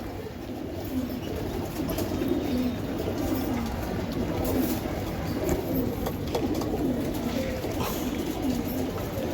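Racing pigeons at a BRPFC club loft coo steadily, a continuous low rumbling chorus of many birds close by with faint wing flutters and no speech.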